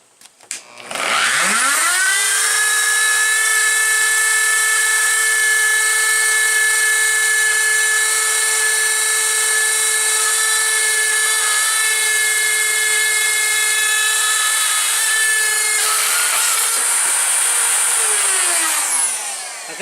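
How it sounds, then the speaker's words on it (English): A power saw blade spinning up while cutting a door for a lock installation, a high, steady whining buzz that holds loud for about fifteen seconds before winding down, with no talking. "when you use one of these saws, you have to go in one direction because the blade is spinning a certain way"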